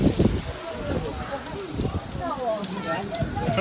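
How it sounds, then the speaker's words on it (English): Steady hiss of spray drifting from the Staubbach waterfall in Lauterbrunnen, Switzerland, sounding like falling rain, a continuous broadband wash with wind noise on the microphone while people talk over it. "It's not that it's raining, it's just the waterfall."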